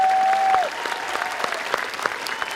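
Applause from the audience at a high school graduation ceremony, with many hands clapping steadily and densely through the short stretch, following a brief held tone at the start.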